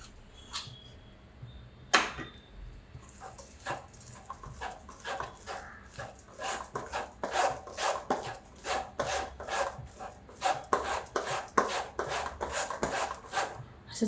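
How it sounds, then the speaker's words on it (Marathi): Flour being sieved for puran poli, a spoon rubbing and scraping it through a mesh sieve into a pot, making a quick run of rhythmic scratchy strokes close by with no talk. "असं चाळून घेते मी सगळं."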